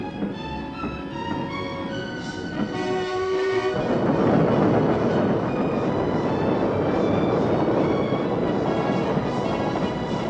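A wiring train of old railway carriages running along the line, a steady loud rolling rumble with rail noise throughout, swelling and becoming denser partway through, with no voices.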